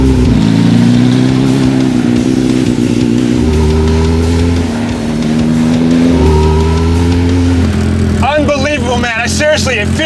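A Discovery Channel DiamondBack vehicle's engine cranks and runs, a loud sustained low roar with shifting revs and a sharper high-pitched burst near the end, with voices talking over it.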